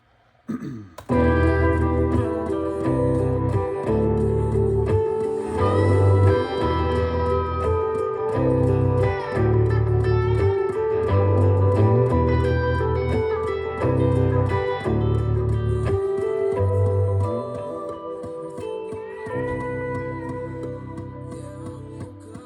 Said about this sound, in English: Let's just listen to the solo section.